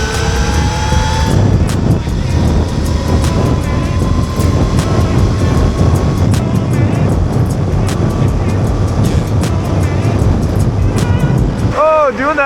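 An electric dirt bike on knobby tires makes a full-speed run: a rising motor whine at the start, then constant loud wind roar and buffeting, with chirps and squeals near the end.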